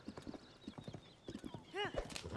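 Horse hooves clip-clop at a riding pace in Zelda: Tears of the Kingdom, rhythmic and close, with a horse whinnying near the end and a voice talking over it.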